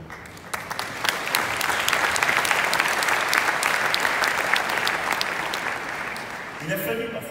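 A large parliamentary assembly meeting in Congress applauds, with dense, steady clapping from many hands filling the hall, loud and sustained before it tapers off at the end.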